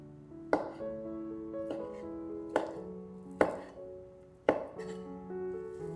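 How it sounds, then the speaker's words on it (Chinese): A knife chops soaked dried shiitake mushrooms into fine dice on a board, giving five separate, crisp, fairly close chops at an uneven pace over soft steady background music. "切成细丁。"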